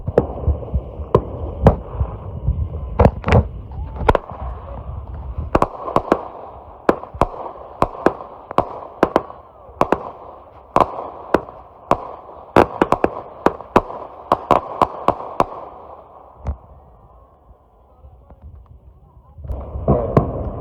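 A TNT Texas Cyclone 19-shot firework cake fires a rapid string of sharp, loud bangs over a steady rumbling hum, the bursts coming in irregular clusters and briefly pausing near the end before a final flurry.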